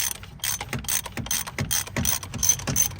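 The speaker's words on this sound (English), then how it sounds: "It's a 24mm socket, so right here. Just unscrew that." A ratchet with a 24mm socket loosening the oil filter housing on a Vauxhall Mokka 1.4 petrol, a rapid run of loud, close mechanical clicks in a steady rhythm.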